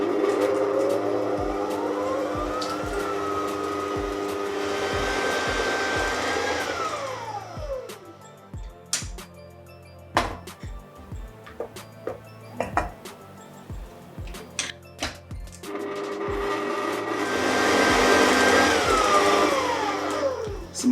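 A stand mixer fitted with a paddle beats eggs into cooled choux pastry dough, its motor whirring loudly and changing pitch, then falling to intermittent knocks and clatter before whirring up again near the end.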